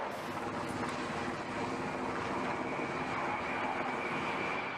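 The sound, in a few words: Navy aircraft flying over an aircraft carrier during an air show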